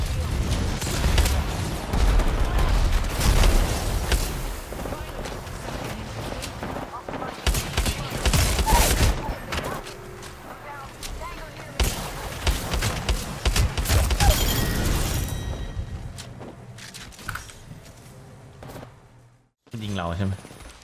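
Dense gunfire in the Apex Legends battle royale, bursts and rapid shots crackling loudly over a busy mix of game effects, with a voice talking at times and a brief drop to near silence near the end.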